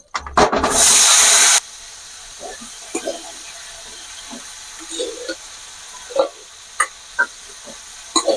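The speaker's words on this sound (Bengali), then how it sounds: "তেলটা গরম হয়ে গেছে, আমি কাঁকড়াগুলো ছেড়ে দিই।" A loud burst of hissing sizzle as crabs hit hot oil, then quieter crackling and occasional clinks and scrapes.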